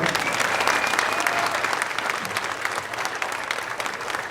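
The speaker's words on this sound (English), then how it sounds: "So they deserve a round of applause too" Audience applause at the Bernazzani spring concert, a moderately quiet, even wash of many hands clapping that holds steady throughout.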